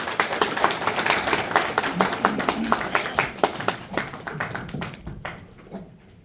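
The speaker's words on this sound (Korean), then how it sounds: "우리 좋은 말씀 해주신 교수님께 다시 한번 큰 박수 부탁드리겠습니다" A lecture audience applauds a professor, many hands clapping in a lively, uneven patter that rises, holds strong, then thins out and fades toward the end.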